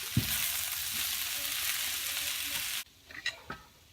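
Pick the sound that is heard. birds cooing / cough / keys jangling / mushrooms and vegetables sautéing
mushrooms and vegetables sautéing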